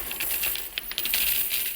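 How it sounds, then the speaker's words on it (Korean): Coins pour out of a piggy bank, a quick run of light metallic clinks and rattles close by, with no voices. "저금통에서는 동전이 우르르 쏟아집니다"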